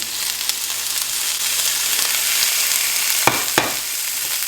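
Frozen green beans and peas go into a hot frying pan with vegetables for Indo-Chinese fried rice, giving a steady close sizzle with stirring scrapes and two sharp clatters near the end.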